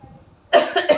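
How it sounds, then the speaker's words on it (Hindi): A person troubled by a recent allergy coughs in a few harsh, close bursts after a quiet moment, loud and alone with no talk. "थोड़ा सा बोलने से ना खांसी होने लगती है।"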